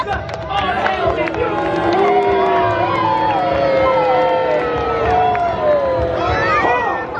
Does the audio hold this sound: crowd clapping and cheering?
yes